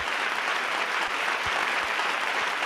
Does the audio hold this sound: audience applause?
yes